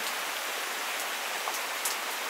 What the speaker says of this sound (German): Hier prasselt mittlerweile voll der Regen